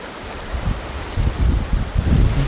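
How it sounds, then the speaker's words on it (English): Gusty downstream wind buffeting the microphone beside a trout stream, low rumbling bursts rising and falling in irregular gusts with a steady rushing background and no talk. "I've got a bit of a downstream wind coming on now as well"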